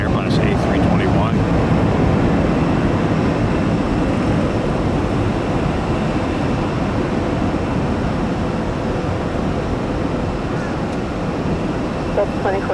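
A Delta Airbus A321 jet airliner departs Tampa, its engines making a loud, continuous broadband roar that holds steady throughout with no clear break.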